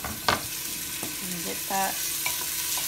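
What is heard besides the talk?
white onions and scallions sizzling in oil in a large pot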